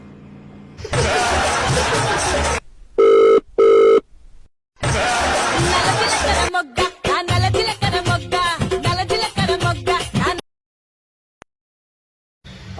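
Telephone ring tones sounding in two short electronic bursts of an unanswered call, set between stretches of loud noisy background and people talking, then falling silent.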